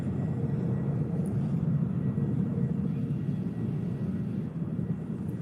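A PC-24 business jet taking off at an airport, heard as a loud, steady low-frequency roar that holds evenly throughout with no voices.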